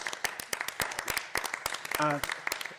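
An audience at a panel discussion on reform of Stormont claps in sharp scattered handclaps, fairly close and sparse rather than a full roar, while a voice speaks briefly over it.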